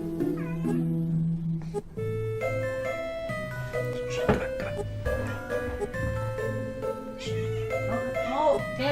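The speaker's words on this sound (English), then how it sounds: "I'm listening intently for meows." A cat meows repeatedly in Castlevania: Dawn of Sorrow, several clear drawn-out meows rising and falling over layered game music and effects, with a voice talking at points.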